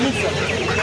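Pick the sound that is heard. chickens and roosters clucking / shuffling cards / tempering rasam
chickens and roosters clucking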